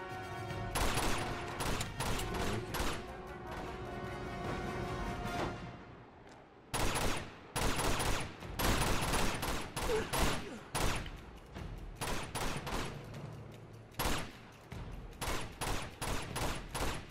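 Rapid sniper and automatic gunfire from the Uncharted video game, with repeated loud cracks and bursts, a short lull, then renewed volleys of shots.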